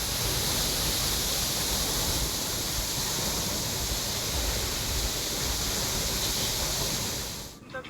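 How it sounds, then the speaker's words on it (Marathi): Water roars from a burst pipeline onto a highway in Solapur, a dense continuous hissing rush that stays loud and steady before cutting off abruptly at the end. "चंदन नगर इथं ही पाईपलाईन फुटली आणि यामुळे लाखो लिटर पाणी वाया गेलं"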